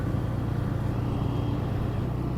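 A loaded truck passes on a rough, broken road, producing a steady, heavy low engine rumble that drones evenly throughout without letting up.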